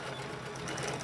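A sewing machine stitches fabric in a short, steady, quiet burst of close mechanical whirring.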